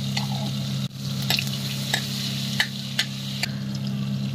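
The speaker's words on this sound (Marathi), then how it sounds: "आता सध्या राई टाकायची" Mustard seeds go into hot ghee and butter for a dal tadka tempering, a close steady sizzle over a constant low hum, punctuated by several sharp spoon clicks and light crackles.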